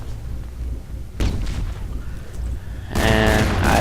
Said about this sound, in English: Then he starts firing the MGL like a crazy person.